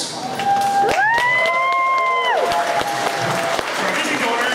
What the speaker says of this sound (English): I would like you all to give a round of applause for our amazing donors